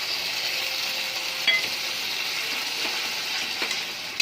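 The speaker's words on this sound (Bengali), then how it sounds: "ভালো করে নেড়ে চেড়ে এটাকেও কষিয়ে নেব তেল বেরোনো অবধি" Cashew and melon seed paste sautés in oil, a continuous bright sizzle with a few sharp scrapes from stirring, close and steady, no voices.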